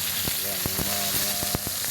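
Thin fish frying in a pan give a loud, continuous close sizzle with crackling pops throughout.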